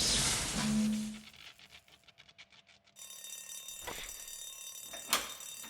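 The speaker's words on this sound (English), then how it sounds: "Why'd the alarm go off?" An alarm bell rings in a rapid, pulsing burst, then gives way to a steadier electronic tone with a sharp clang near the end; no one speaks.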